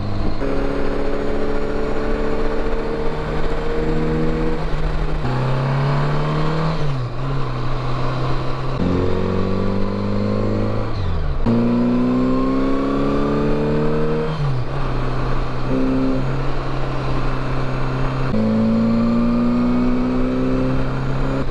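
A 1981 Honda GL1100 Goldwing Interstate motorcycle hums steadily on the road, with the engine pitch rising through each gear and dropping at every shift, under constant wind rush and with no talking.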